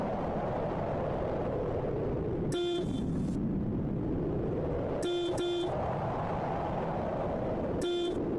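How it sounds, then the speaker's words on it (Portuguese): In a minigame, a car horn honks in short bursts: one blast, then a quick double toot, then another single honk, loud and near over a steady engine drone. "é só buzinar que a véia some dali"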